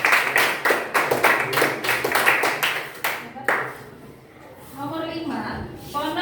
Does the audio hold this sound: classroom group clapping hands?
yes